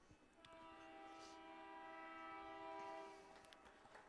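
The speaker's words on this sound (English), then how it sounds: "So we have a big old freight train running through right now." A big freight train rolls past a soccer pitch at Hart Park in Milwaukee, its horn holding steady layered tones over a continuous rumble of railcars close by, with faint crowd noise underneath.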